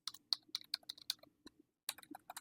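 Typing on a computer keyboard while an online sponsorship form is filled in: quick bursts of crisp key clicks, close and quiet, broken by a short pause before another run of keystrokes.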